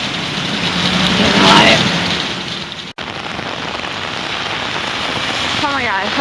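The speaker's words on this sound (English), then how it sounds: "I'm walking in the pouring fucking rain right now" Heavy pouring rain during a Houston storm makes a loud, steady wash of hiss and patter outdoors that runs the whole time, broken only by a brief cutout near the middle.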